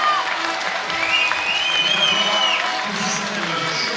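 Rugby crowd at a France v Wales World Cup match applauding and cheering in a steady, dense roar, with whistles and voices rising above the sustained clapping throughout.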